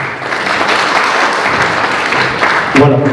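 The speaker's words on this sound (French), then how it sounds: "On peut l'applaudir, s'il vous plaît." Steady, loud audience applause fills a memorial thanksgiving mass, a dense wash of clapping hands that continues unbroken before a voice briefly begins at the end.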